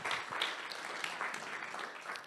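An audience at an awards ceremony applauds steadily, dense clapping filling the whole stretch at moderate volume with no talk over it.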